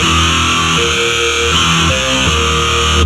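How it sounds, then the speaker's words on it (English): A trap metal beat plays with a free reverb plugin applied, dense distorted loud synth and bass layers washed in reverb, continuous and without any talking. "I'm gonna add some free reverb onto this."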